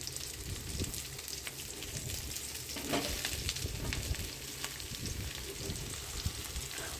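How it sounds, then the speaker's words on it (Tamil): Ridge gourd pieces sauté in hot oil with onion and garlic, giving a steady, close sizzle and crackle with occasional stirring scrapes and no talking. "நம்ம கட் பண்ணி வச்சுருக்கிற பீக்கெங்காயை அதுக்குள்ளே ஆட் பண்ணிக்கலாம்"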